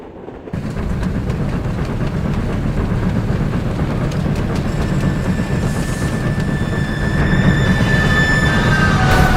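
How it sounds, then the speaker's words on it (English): A train gathers speed as a continuous, loud rolling rumble with a faint rising whine. It starts abruptly after a brief quiet, holds steady, and swells slightly louder near the end, with no voices. "The passengers tense as the train picks up speed."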